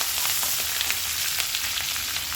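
Ginger, green chili and curry leaves fry in hot oil for oats upma, giving a steady, loud sizzle with scattered sharp crackles and pops throughout, with no one speaking.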